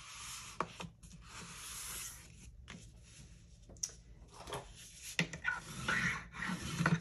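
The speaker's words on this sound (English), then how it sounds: "all we're doing is literally just folding this in half" A paper file folder being folded in half gives soft, faint rubbing and scraping strokes with a few light crinkles, close up in a quiet room.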